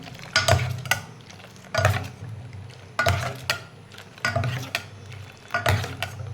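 Ingredients for homemade sour yogurt beaten in a bowl, a rhythmic scraping and clinking whisking stroke repeated about five times at roughly one-second intervals, close and fairly quiet with no talking.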